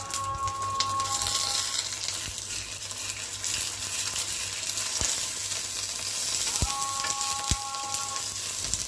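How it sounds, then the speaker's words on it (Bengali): An egg fries in a pan with a steady, close hiss of sizzling oil, broken by a few sharp clinks of a utensil against the pan. "এখন আমি একটা ডিম ভেজে নিচ্ছি"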